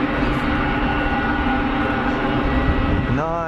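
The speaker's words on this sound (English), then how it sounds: "Pilatus cranking its way out" A Pilatus PC-12 single-engine turboprop taxiing at Geneva Airport gives a steady, loud propeller drone with a strong tonal hum, with a rising whine near the end.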